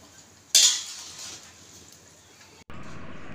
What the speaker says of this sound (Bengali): তার জন্য আমি দুটো খুন্তি দিয়ে নাড়াচাড়া করছি